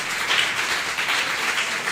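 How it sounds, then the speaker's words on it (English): A crowd at an afternoon festival stage applauds, a steady wash of clapping that holds evenly for a couple of seconds with no voices over it. "So, just big round of applause to Damian Whiskey, the Midnight Grill."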